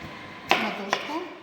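Two sharp knife chops strike a board about half a second apart, cutting peeled potato into wedges, crisp and close.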